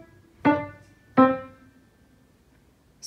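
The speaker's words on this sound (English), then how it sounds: "You play the notes very disconnected." Two short, detached piano notes struck staccato about 0.7 seconds apart, each decaying quickly into quiet, played alone with no talking.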